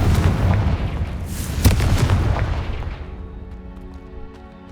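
Rumbling fire-blast spell explosions from Hogwarts Legacy, a loud, dense burst that holds for about three seconds and then fades into a lingering magical ringing tail.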